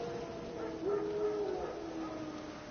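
In Witcher 3, a pack of wild dogs gives off one drawn-out, wavering howl. It sounds distant and fairly faint over a steady ambient game background.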